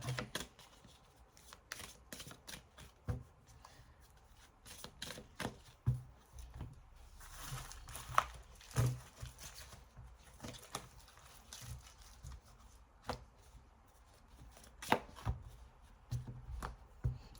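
Oracle cards shuffled and cut by hand, a long run of quick crisp riffling taps and soft slaps with brief pauses, close and alone without talk.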